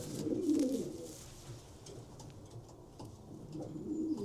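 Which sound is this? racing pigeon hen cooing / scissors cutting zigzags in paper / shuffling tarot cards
racing pigeon hen cooing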